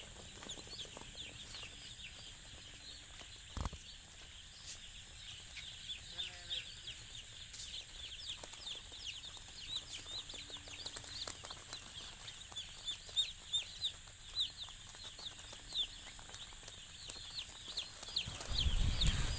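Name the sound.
broiler chicks chirping on first day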